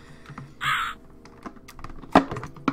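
A crow caws in the puzzle game Rusty Lake Hotel: a harsh burst near the start, then a couple of sharper calls later, with faint tapping sounds in the background and no talk.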